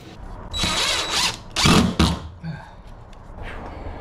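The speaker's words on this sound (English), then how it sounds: "I had to use a countersink bit" Power drill fitted with a countersink bit whines in several loud close bursts while driving screws into cement board, with short pauses and the motor winding down between them.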